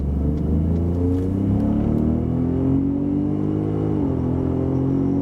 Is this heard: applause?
no